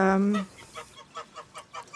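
Domestic geese give a loud, close honk at the start, followed by a rhythmic run of shorter, fainter nasal calls.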